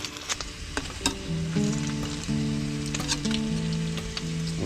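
Frozen food sizzling and frying in a pan, a steady crackling hiss with occasional sharp pops and stirring scrapes, close and clear with a low tonal hum running beneath.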